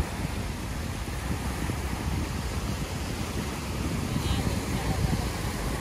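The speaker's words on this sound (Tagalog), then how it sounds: "Lakas ng alon ngayon," Strong waves and gusting wind along a lakeshore campsite on a rough-weather day late in the camping season, a continuous loud broadband roar with wind buffeting the microphone throughout.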